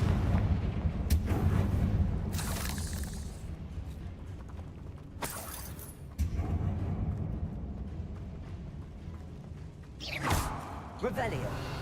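Confringo spell blast in the Hogwarts Legacy video game, a loud booming explosion with crackling debris and whooshes, mixed with game effects and a voice speaking over it.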